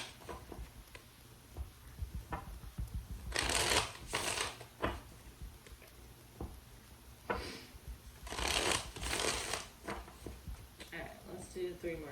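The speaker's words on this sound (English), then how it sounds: "Alright, let's do 3 more shuffles." Tarot cards shuffled by hand in repeated bursts of riffling, crisp papery flutters rising and falling between quieter handling noises, close and clear, with a person speaking quietly in the gaps.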